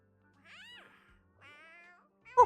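A small creature in a video game makes cat-like meows, two drawn-out mewing calls with a pause between, then a brief sharper squeak at the end, clear and alone against silence.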